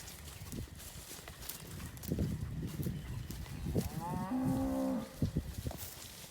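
A calf lets out a single drawn-out moo amid rustling and hoof shuffles, fairly close, with no talking.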